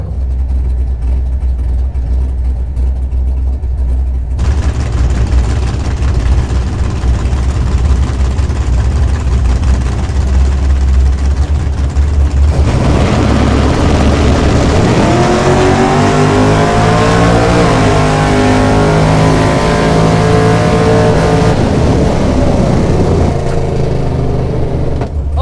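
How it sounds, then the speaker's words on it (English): Drag racing door car at a drag strip, a loud low engine rumble at the line that surges into a roaring launch and rising revving pass, heard alone without talk. "I got a door car, not a dragster, but usually the door cars here are pretty damn fast."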